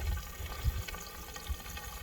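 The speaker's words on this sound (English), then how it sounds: "So we put water in this pipe, and then there's a hole down there on the bottom." Water trickles and splashes softly as it is poured into a pipe feeding self-wicking garden tubs outdoors, faint and irregular with a few low bumps, no talking.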